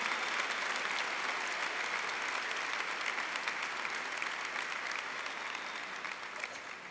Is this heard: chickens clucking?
no